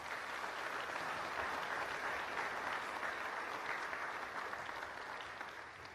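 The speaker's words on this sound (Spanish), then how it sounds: "Un aplauso, por favor." An audience at an award ceremony breaks into sustained applause, even and fairly distant, with a slight fade toward the end.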